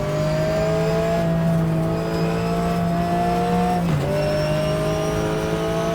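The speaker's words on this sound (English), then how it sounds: "A little bit of downshift and rev matching, always good." Race car engine in the 2004 racing video game GTR2, loud and steady at high revs, then a sharp blip and pitch drop as it downshifts with a rev-matching throttle stab before settling into a constant drone.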